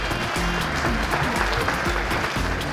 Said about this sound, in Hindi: कृपया तालियां हो जाएं